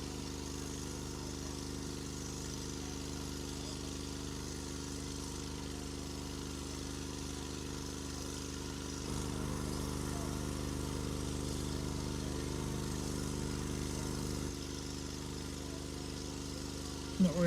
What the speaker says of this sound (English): Not very often you see a fire engine doing testing on their hoses and stuff.